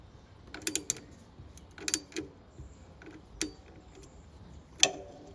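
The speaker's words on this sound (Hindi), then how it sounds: "I just want you to enjoy the ratchet sounds" A hand ratchet tightens the bolts of a Powerage exhaust on a Super Meteor 650 motorcycle, making crisp, close clicking bursts in short irregular runs separated by brief pauses over a faint quiet background.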